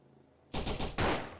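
Shotgun fire in the video game Perfect Heist 2: two loud, heavy blasts, the second coming about half a second after the first, each one trailing into a dense rumbling decay after a quiet start.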